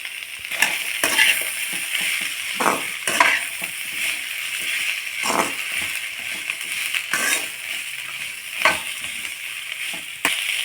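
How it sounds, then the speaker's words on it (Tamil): Handfuls of coriander and mint leaves sauté in a pan for a village-style coconut chutney: a soft continuous sizzle with repeated spatula scrapes and clinks, close by and alone. "கொத்தமல்லி புதினா ரெண்டுமே ஒரு ஒரு கை அந்த அளவு எடுத்துருக்கேன் அதையும் போட்டு நல்லா வதக்கிக்கலாம்"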